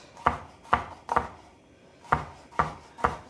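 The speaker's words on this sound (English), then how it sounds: "get busy with the slicing and the dicing and the mincing and the chopping" Knife chopping vegetables on a board while making cauliflower curry, six crisp evenly spaced strikes in two groups of three, close and fairly loud with no talk.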